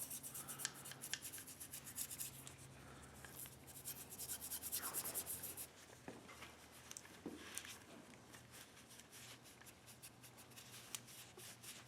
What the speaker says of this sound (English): I'm just going to start massaging this throttle body with the toothbrush